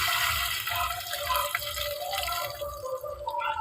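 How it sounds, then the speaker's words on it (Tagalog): Water poured into a pot of simmering vegetables with papaya and latoy, a steady liquid splashing and trickling that carries on throughout, close and fairly loud with no talk. "Ilagay na natin ang tubig."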